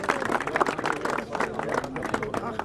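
Audience applause at a motocross race awards ceremony, a dense, steady clapping from a crowd throughout with no pause.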